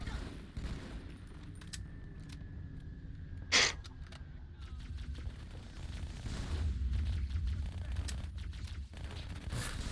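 Battle rifle gunfire in Halo 2 multiplayer crackles in short bursts amid game ambience, with one sharp louder shot standing out midway and rattling fire continuing throughout.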